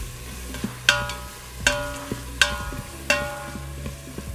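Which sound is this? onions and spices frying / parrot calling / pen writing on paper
onions and spices frying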